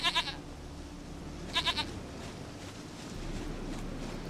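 A goat in The Witcher 3: Wild Hunt bleats twice, short wavering calls about a second and a half apart, over a low ambient background with no talk.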